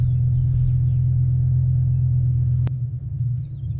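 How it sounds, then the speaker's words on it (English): A BMW E60 M5 with the S85 V10 engine runs with random misfires across several cylinders, giving a loud, steady, deep rumble that roughens after a single sharp click near the end. "Several cylinders, just random misfire."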